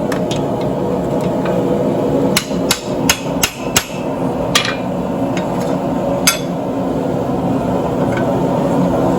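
A blacksmith hammers steel to radius a cut, a quick burst of ringing metallic blows in the middle, with a few scattered strikes before and after over steady workshop hum.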